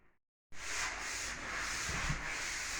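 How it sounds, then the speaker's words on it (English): Mudded drywall walls being sanded in a house under renovation, a continuous broad rubbing hiss that starts abruptly after a brief quiet moment and holds steady, close by. "We're sanding the walls."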